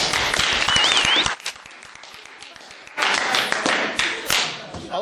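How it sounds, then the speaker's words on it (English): A class of cadets gives a round of applause, a loud burst of clapping for about a second, then quiet shuffling and thumps before a second, louder round of clapping with scattered individual claps. "Everybody get a round of applause."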